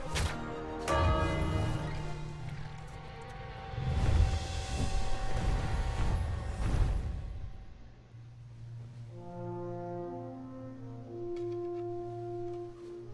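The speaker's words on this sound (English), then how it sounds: "I'm gonna shoot the bell." A bell shot in the King's Quest video game, a loud metallic impact followed by a long ringing toll and then a softer, sustained chime fading out, with music underneath.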